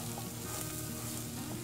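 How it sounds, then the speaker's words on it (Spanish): Flour fries and is stirred constantly in a pan for poblano pepper soup with corn kernels, giving a steady close sizzle with soft scraping underneath and no voices. "vamos a agregar la harina, vamos a mover constantemente para que no se queme."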